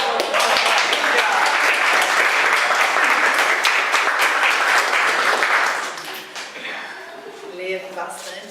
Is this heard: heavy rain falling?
no